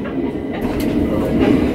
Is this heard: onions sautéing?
no